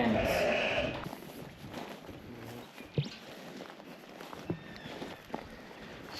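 Rams bleating on a Western Australian sheep farm, a dense chorus of overlapping calls loud at first, then thinning to scattered bleats and footfalls against a quieter background.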